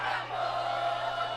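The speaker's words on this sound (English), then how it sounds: "they're still clapping and being very happy up there in the stands" Football fans in the stands at a Friday night high school game between Deer Park and Reading clap and cheer, a distant, faint, continuous crowd roar with no distinct voices.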